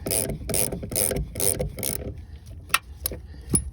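A ratchet loosens a nut on a Bilstein shock on a Mustang GT, giving five rhythmic bursts of close, loud clicking, followed by a few sparse single clicks and knocks.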